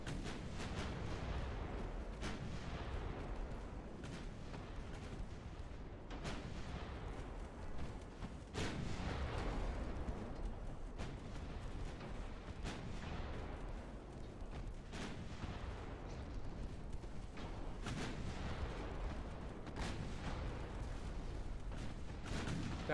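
Warship guns fire armor-piercing shells in the naval game Ultimate Admiral Dreadnoughts, with repeated heavy booms at irregular intervals over a constant low rumble of sea and engine noise.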